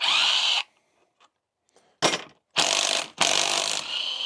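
Power tool, likely an impact gun or ratchet, removing transmission bolts during a transmission refresh, in loud bursts: one short burst, then two longer sustained runs separated by brief pauses, close up and with no talk.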